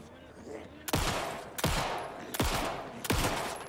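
Gunfire in the video game Alan Wake 2: four loud, sharp shots ring out at an even pace, each one cracking and then trailing off in a short echo.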